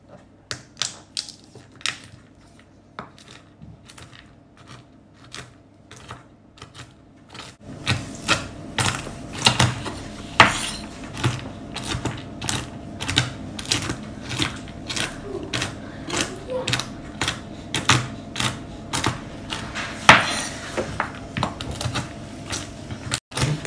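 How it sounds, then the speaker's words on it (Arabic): Hazelnuts crushed for a carrot cake, giving a long run of sharp, rapid cracking and crunching knocks, close and fairly loud, continuing throughout with a denser stretch in the second half. "en fait je vais prendre les noisettes, je vais les concasser."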